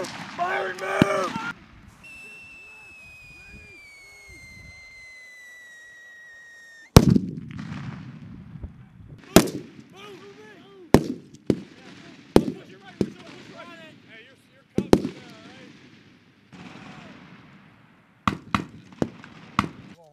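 Rifle fire at a Marine rifle squad competition: a string of sharp, loud cracks, some single and some in quick pairs, spaced irregularly, with shouted commands and talk between them.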